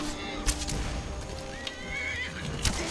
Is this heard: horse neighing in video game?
yes